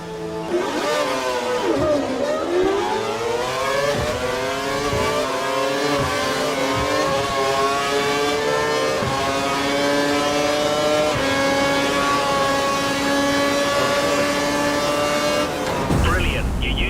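A Formula 1 car engine in the F1 2012 racing game climbs steadily through the revs in one long, loud, rising whine, with a brief gear-change dip early on and an abrupt cut at the end.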